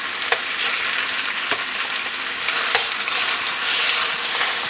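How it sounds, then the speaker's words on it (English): Pork ribs browning in a greased skillet give a steady, close, hissing sizzle with a few sharp pops and brief scraping movements, no voices. "you just want to get them nice and browned up"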